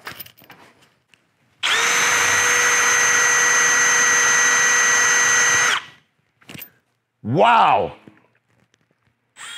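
A power drill whines steadily at high speed for about four seconds while drilling out a screw, then stops; a short exclamation and brief clatter follow.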